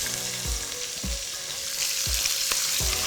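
Onions sizzling in hot oil with cumin seeds for a marrow curry, a steady loud frying hiss punctuated by a few knocks and stirs of a utensil.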